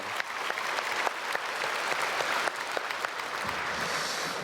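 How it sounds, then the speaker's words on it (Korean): A Korean church congregation at Sunday worship at Myungsung Church applauds the choir after its praise song, a broad continuous round of clapping that swells and then tapers off. "박수로 축복하겠습니다"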